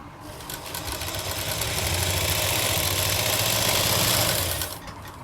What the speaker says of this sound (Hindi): और हम इस तरह से रखेंगे और अब हम इसके चारों तरफ से सिलाई लगा लेंगे।